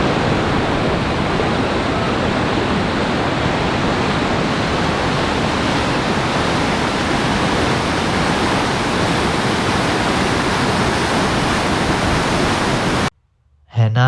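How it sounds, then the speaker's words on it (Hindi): The Bhagirathi river rushing with great force, a loud steady roar of churning water that fills the scene before cutting off briefly near the end. "और अब ये देखो भगीरथी के पानी का फोर्स"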